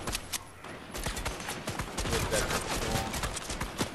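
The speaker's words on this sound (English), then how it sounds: "There's people shooting at us ahead" Fortnite gunfire, including shotgun blasts, cracks as a dense run of sharp shots through the clip, loud and close, mixed with game sounds and occasional voices.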